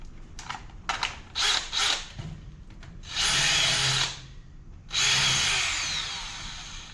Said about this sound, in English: I'm having a problem with this drill too